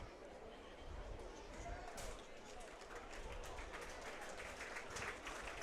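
A rugby league crowd on the terracing applauds after a try in an 1895 Cup match, scattered clapping and murmuring chatter heard faintly and at a distance, with a commentator talking over it.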